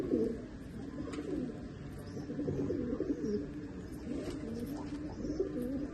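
A pigeon coos repeatedly in low rolling phrases, close and steady, with other birds faintly behind and no talk.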